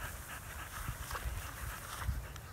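A dog pants rapidly and softly nearby in a steady breathy rhythm, faint against background noise, with no speech.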